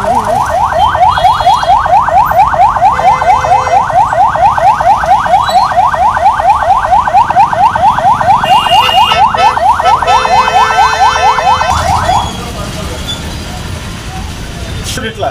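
Emergency siren sounding during a public mock drill, a loud rapidly rising-and-falling electronic wail repeating steadily for about twelve seconds before cutting out, with faint background noise afterward.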